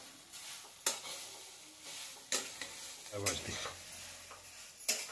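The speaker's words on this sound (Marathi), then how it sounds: "आता 5 मिनिटं हलवायचा, खाली उतरायचा." Sabudana stirred and roasted in a pan, with soft sizzling and scraping strokes of a spoon arriving in irregular bursts, fairly faint and close.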